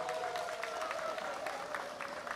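Audience applause welcomes a lecturer at a nature conservation association talk; steady, moderately faint clapping from a seated crowd, continuous for a couple of seconds with no talking.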